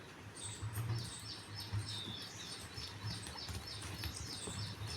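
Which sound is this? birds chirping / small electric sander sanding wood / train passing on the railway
birds chirping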